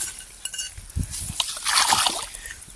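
A piece of iron is washed in water on a farm, with soft splashing and sloshing over a few seconds.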